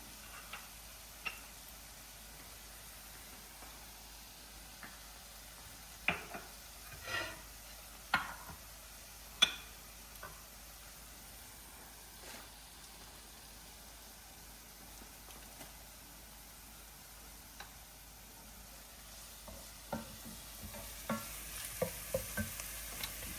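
Food frying in a pan for a cheesy potato dish, a soft continuous sizzle with scattered clicks and taps from utensils, no talking.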